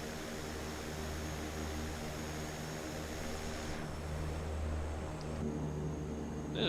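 A De Havilland Canada CL-415 propeller amphibian in the MSFS2024 flight simulator drones with a steady, even engine hum and propeller buzz, constant throughout with no voices.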